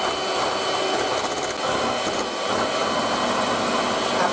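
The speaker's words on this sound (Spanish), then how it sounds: "primero que se debe de hacer es batirlas por separado a punto de nieve. Y las batimos" An electric mixer whips egg whites to stiff peaks for a strawberry cream tart, a loud, steady close-up whir with a dense rasping buzz that barely changes throughout, no voices.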